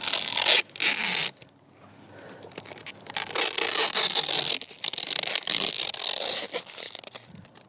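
Protective plastic film is peeled and torn off a new smoked-out LED third brake light for a Ford F-150, giving loud crinkling, ripping bursts close by with short pauses between pulls.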